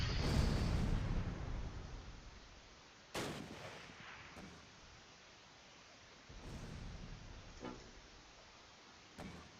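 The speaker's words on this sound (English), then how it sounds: "Mortar barrage basically just whiffed on this Panther Grenadier unit." Mortar barrage explosions in the WWII strategy game Close Combat: Last Stand Arnhem, a few heavy booming blasts spaced several seconds apart, each with a sharp crack and a long rumbling tail, fairly faint overall.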